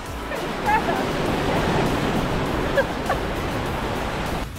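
Ocean waves and wind wash steadily around a sailboat at sea, a continuous broad rushing roar with faint voices briefly audible over it.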